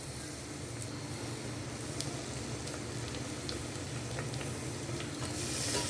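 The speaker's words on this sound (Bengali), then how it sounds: "এবার আমি এটাকে ভালো করে কষবো।" Chicken, tomato, onion and garlic saute in mustard oil in a cooker for a dhaba-style chicken curry, giving a continuous close sizzle with scattered stirring scrapes and a low rumble, rising slightly at the end.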